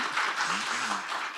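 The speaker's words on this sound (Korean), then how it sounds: "여러분 계속해서 큰 박수 한 번 더 부탁드리겠습니다" An audience at a CES 2023 K-Startup review seminar applauds in a hall. The clapping is brief, steady and even, with a faint voice mixed in beneath it.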